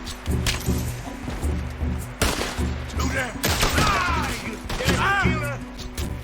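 Gunfire from the video game Red Dead Redemption 2: several sharp bursts and cracks over a steady in-game music and ambient bed, with someone talking excitedly through it.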